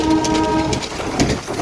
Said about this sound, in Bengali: এটা হচ্ছে টয় ট্রেন